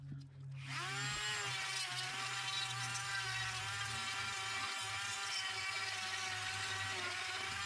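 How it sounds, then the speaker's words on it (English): A high, steady whirring Dremel rotary tool with a flex shaft grinds driftwood close by, running continuously after a brief start at a constant pitch, with no talking. "I'm gonna use the Dremel flex shaft."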